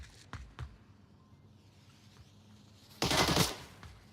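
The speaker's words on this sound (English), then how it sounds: "Gunshots were made towards Deadshot." Gunfire in the virtual reality shooter Onward during a competitive match: a few sharp, distant shots early on, then a louder, closer burst of rapid fire, with quiet game ambience between.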